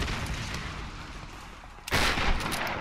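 Gunfire in Tomb Raider, a low rumbling barrage that suddenly bursts louder and brighter partway through, with no voices.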